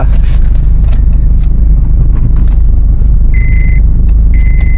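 A Honda City Turbo car being driven, with a steady loud low rumble of engine and road noise throughout, plus a short high tone chiming twice near the end.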